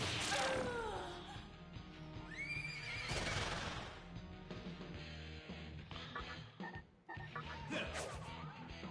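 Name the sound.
horse neighing in the video game SMT Nocturne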